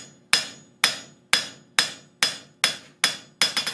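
Eight sharp hammer blows ring out on hot steel over an anvil while a flux spoon is forged, struck straight down at a steady pace about every half second, loud and close, the last few coming quicker.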